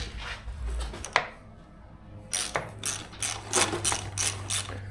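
Ratchet wrench backing out a screw on a Harley Sportster clutch: a single click, a pause, then a run of quick, evenly spaced ratcheting clicks, close and clear.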